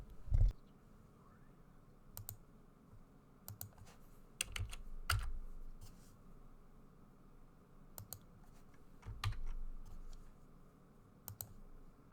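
Computer mouse clicks while importing images into Vixen lighting software, a sparse, irregular series of sharp close clicks over quiet background hiss.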